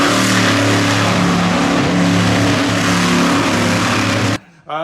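A loud, throaty monster truck engine roars continuously at high revs while doing a donut, steady and close, then cuts off abruptly near the end.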